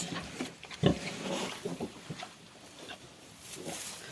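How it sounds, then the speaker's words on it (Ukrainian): 17-day-old piglets grunt and snuffle in short, scattered bursts, one louder squeal-like grunt near the start, amid soft rustling. "Гарні поросятка, Олексій."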